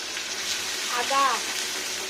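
Ginger sizzling gently in ghee over low heat, a soft steady frying hiss with a brief stir or splash midway, recorded close and without speech.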